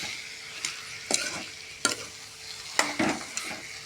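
Pre-fried potatoes are stirred into a chicken curry masala in a pan, a soft sizzle under several distinct scraping strokes of a spoon against the pan, spaced irregularly and close by.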